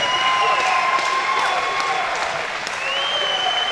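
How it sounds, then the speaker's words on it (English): Arena crowd applauding two boxers after a championship bout at Firelake Arena, broad sustained clapping with some cheering, loud and steady throughout, with faint voices mixed in. "how about a round of applause for these two great fighters?"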